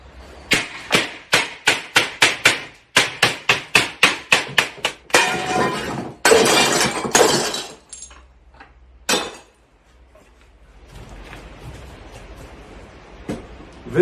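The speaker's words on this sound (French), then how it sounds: "Deuxième étape, dépose du verre." Old glass being knocked out of a French door more than fifty years old: a fast series of sharp hammer-like strikes, then crunching and breaking glass and a few clinks, loud and close, with no voices.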